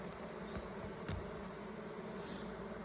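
Honeybees at an opened hive hum in a steady, dense drone, close and continuous, with an occasional louder bee passing near; no talking.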